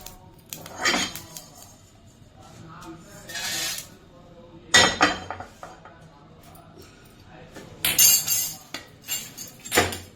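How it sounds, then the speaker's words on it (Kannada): Roasted ingredients for a raw mango gojju being moved from a pan to a plate and another vessel, heard as sharp metallic clinks and scrapes of utensil on cookware in several separate bursts, close by, with quieter gaps between them. "ಇದು ಒಂದು ಪಾತ್ರೆಗೆ ಒಂದು ಪ್ಲೇಟಿಗೆ ತೆಗಿತೀನಿ"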